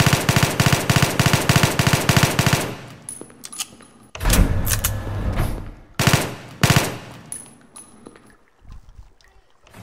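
Rapid bursts of M93R pistol fire in a video game, a dense run of evenly spaced loud shots followed by scattered single shots and short bursts with clattering game effects.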